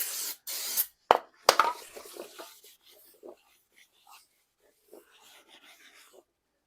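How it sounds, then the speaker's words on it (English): Brake cleaner is sprayed onto new factory-coated brake rotors in short, loud hissing bursts, followed by quieter rubbing and scattered faint handling noises. "we're going to spray them with some brake cleaner to remove some of the coating that comes from the factory"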